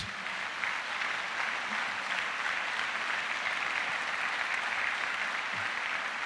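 A church congregation claps in praise to the Lord at a general meeting, a sustained even wash of applause that carries on throughout.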